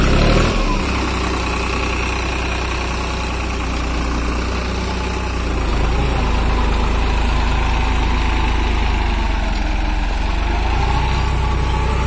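A New Holland 3630 tractor pulling an 8ft rotavator through wet ground runs with a loud, steady diesel drone. Its load shifts slightly partway through, and the engine holds a constant rumble throughout.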